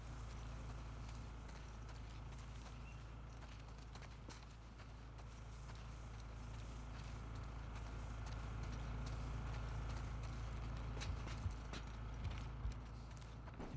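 Horse hooves clip-clop steadily through the whole stretch in The Last of Us Part 2, a faint, even walking rhythm set under a low rumbling ambience, with a few slightly sharper knocks near the end.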